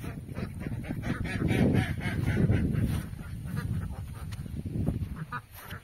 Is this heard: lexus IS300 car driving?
no